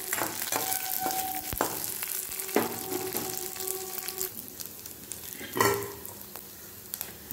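Garlic and dried red chillies sauté in oil in a pan, giving a close steady sizzle punctuated by spoon clinks and scraping stirs, with a louder burst near the end.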